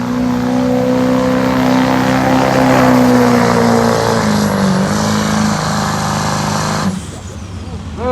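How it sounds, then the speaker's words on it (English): Chevy Duramax diesel truck at a sled pull roars loud and steady under heavy load, its engine note holding high then sagging slightly before cutting off abruptly near the end, leaving quieter crowd ambience. "here's Reed Aberelli pulling the Chevy Duramax"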